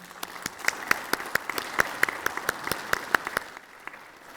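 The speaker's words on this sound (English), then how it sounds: "Please give them all a round of applause to thank them." A symposium audience on Buddhist compassion and world peace gives a round of applause, sparse and distinct claps with a few sharper individual hands standing out, tapering off after about three and a half seconds.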